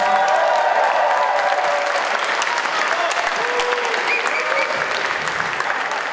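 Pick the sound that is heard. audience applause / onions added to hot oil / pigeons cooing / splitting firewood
audience applause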